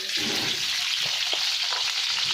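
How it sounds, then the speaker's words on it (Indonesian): Shallots and curry leaves sautéing in hot oil in a pan: a loud, close, steady hissing sizzle with a few soft stirring knocks, brief and without speech. "Kita tumis dulu bawang merahnya sama daun kari"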